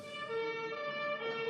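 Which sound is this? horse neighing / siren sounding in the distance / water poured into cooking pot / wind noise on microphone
siren sounding in the distance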